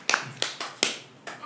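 A handful of sharp hand claps, five irregular slaps spaced across a second and a half, moderately close in a quiet room.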